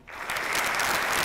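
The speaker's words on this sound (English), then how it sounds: "please join me in providing a resounding round of applause" An audience applauds a keynote speaker, clapping swelling in within a fraction of a second into a dense, steady round.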